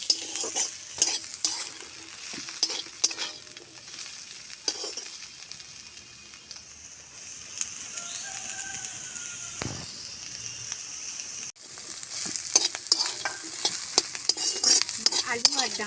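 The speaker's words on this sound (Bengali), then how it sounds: "আলু আর ডাঁটা দেখুন ভাজা ভাজা হয়ে গেছে।" Potatoes and vegetable stalks frying over a dung-cake clay stove while being stirred, with a constant sizzle and repeated scraping and clinking of the spatula, quieter briefly in the middle.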